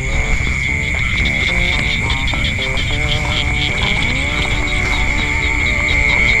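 Frogs croak at night in a field, a dense and continuous chorus of rapid pulsing calls over a steady high insect buzz, loud and close throughout.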